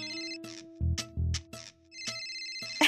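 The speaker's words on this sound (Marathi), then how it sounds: "तुझा फोन आहे" A phone ringtone plays indoors in a household scene, a loud electronic melody of repeated tonal bursts and chiming notes that sounds alone with no voices over it.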